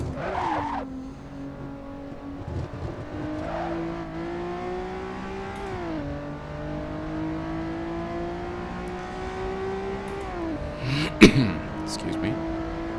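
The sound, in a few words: Honda NSX engine revving in Assetto Corsa video game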